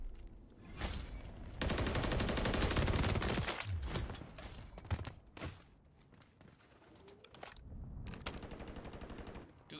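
Sustained automatic gunfire from a 100-round magazine in Warzone, loud bursts of continuous rapid fire with short pauses between volleys and no talk.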